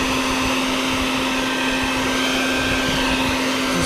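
A vacuum cleaner roars at a constant, loud pitch with a steady high whine while sucking out a wasp nest at a rental property deck, running the whole time without a break.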